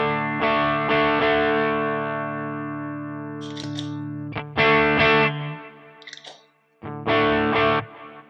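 Electric guitar through a Walrus Audio Fundamental Drive pedal with its volume turned down, pushing an amp model on a Quad Cortex; separate sustained chords ring out and decay, with short gaps and pick noises between them.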